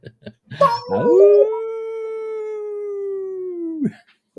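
A long, sustained canine howl rises from a few short yips, holds a steady pitch for about three seconds, then drops away, loud and close with nothing else around it.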